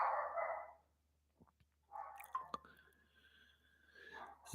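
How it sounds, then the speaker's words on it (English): A dog barks faintly somewhere in the background, a few muffled yelps separated by quiet gaps. "Sorry if you hear the dog in the background."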